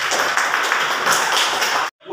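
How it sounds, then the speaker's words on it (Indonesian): A group of elementary school children in a class claps together in a dense, steady patter for about two seconds. The clapping stops abruptly, and a brief quiet follows. "Iya, tepuk tangan."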